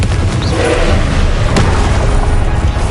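A Confringo fire spell explodes in the video game Hogwarts Legacy, a dense low boom with a rumbling roar that stays loud and steady throughout, with a brief sharp crack midway.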